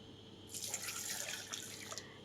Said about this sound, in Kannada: ಹಾಗೆ ಅದೇ ಕಪ್ಪಲ್ಲಿ 1 ಕಪ್ಪು ನೀರು ಸೇರಿಸ್ಕೊಳ್ಳಿ.